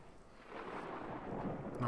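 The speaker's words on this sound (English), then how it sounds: "Oh, it's getting stormy out." Stormy weather in the video game Xenoblade Chronicles 2, a steady broadband rumble of thunder and rain that slowly swells louder over two seconds, with no talking over it.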